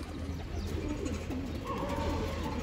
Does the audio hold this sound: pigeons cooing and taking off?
yes